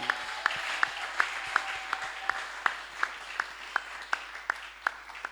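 A church congregation claps in a steady, even rhythm during a service, with sharp, regularly spaced claps and no one talking over them.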